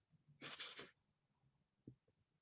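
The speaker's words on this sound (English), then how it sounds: "sometimes those sneezes be hard" A single sharp sneeze bursts out close by, loud and breathy, followed by a soft throat sound and quiet breathing in a calm room.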